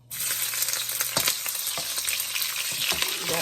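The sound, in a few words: onion frying in a pan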